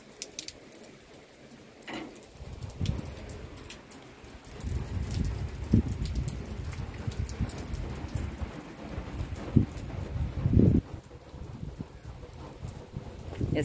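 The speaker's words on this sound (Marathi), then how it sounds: "छान छान असा पाऊस पडतोय" Steady rain falls over a village home with mango trees, a dense hiss of drops hitting surfaces that swells in the middle, with faint rumbling and occasional heavier patters, and no voices.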